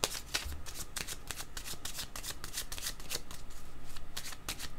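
Playing cards being shuffled for a card reading, a close series of quick crisp riffling bursts repeating rapidly, with no voices.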